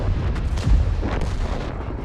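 A gunshot from a shooter video game lands as one heavy, booming report with a rumbling tail, loud and close over the short stretch.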